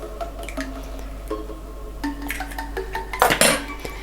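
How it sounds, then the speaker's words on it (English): Eggs cracked one after another against a bowl and dropped in while making vanilla cupcakes: a few close, sharp clinks and taps, then a louder crackling burst near the end, with no talking. "I'm going to use the same bowl to crack my eggs"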